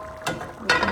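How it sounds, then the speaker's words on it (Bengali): A lid lifts off a pot of lentils cooking with mixed vegetables, giving two short metallic clicks and scrapes close by, with a quiet kitchen hum between them. "আমরা এখন ঢাকনাটা খুলে দেখি ডালটার কী অবস্থা।"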